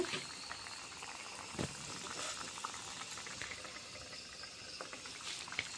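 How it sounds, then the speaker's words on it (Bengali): Pabda fish simmers in a pan of mustard paste gravy, giving a steady close bubbling and sizzling with small pops throughout, with no voices over it. "এখন ছেড়ে দিচ্ছি আমরা ঝুলের মধ্যে মাছ"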